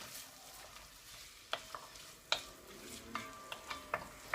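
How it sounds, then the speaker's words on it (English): Red onions and garlic sizzling in melted butter for a BBQ chilli burrito, a faint soft fry under a handful of sharp spoon taps and scrapes against the pan. "once that butter is pretty much melted, we can just throw in our red onions and garlic mix"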